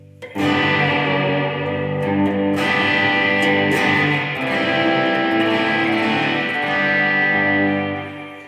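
A distorted electric guitar rings out through a Fender CyberTwin amp, chords sustaining and swelling with heavy reverb and echo, loud and unaccompanied.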